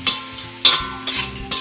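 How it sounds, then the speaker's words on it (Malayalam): Spices including turmeric and ground fennel seed being stirred in a frying pan, with a soft steady sizzle and four distinct scraping stirs at a regular rhythm, close and moderately loud. "ഇത്രയും കൂടി ഇട്ട് ഇളക്കി കൊടുക്കാം."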